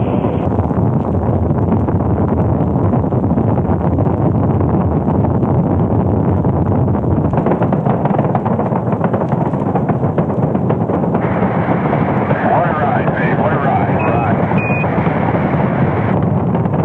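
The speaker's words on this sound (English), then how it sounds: "All engines running. Launch commit. Liftoff." Rocket engines roaring at liftoff, a loud, dense, continuous rumbling roar that fills the whole clip without letup, slightly shifting in texture partway through.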